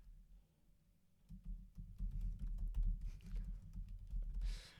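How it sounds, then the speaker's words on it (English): Light, irregular typing on a computer keyboard, soft clicking taps under a low background hum, growing busier partway through; no talking. "it's bad when the mic is picking up your little Typing"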